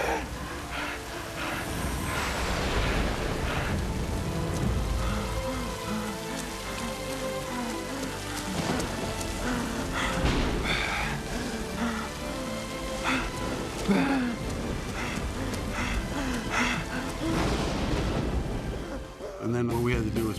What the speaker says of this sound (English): I found that it would be easier by putting the big rain rigs up into the air that I can just pan and move around for the different shots.